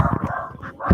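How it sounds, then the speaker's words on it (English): A pet dog barking in a home sewing room, a few sharp, agitated barks in quick succession close by, with no talking over them. "My dog is going ballistic."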